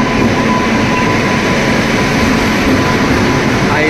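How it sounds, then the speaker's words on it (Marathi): A train pulls in at a railway platform on a trip to Tirupati, producing a loud, steady rumble of rolling wagons and wheels that fills the clip without letting up. "तर मित्रांनो, फायनली ट्रेन आलेली आहे आमची."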